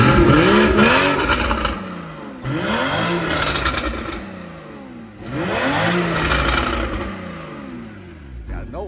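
A Porsche Boxster engine revs hard three times, each rising to a deep, loud exhaust roar before dropping back, close by.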